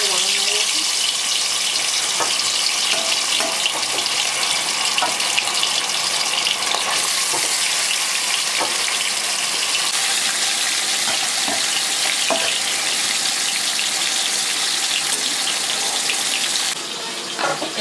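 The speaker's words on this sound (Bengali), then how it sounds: "তো আমার কড়াই গরম হয়ে গেছে, মাছগুলো আমি ভেজে নিচ্ছি। তেলও গরম হয়ে গেছে।" Fish frying in hot oil in a wok, a silver carp being cooked, gives a continuous bright sizzle with occasional pops and stirring clicks, steady and close throughout.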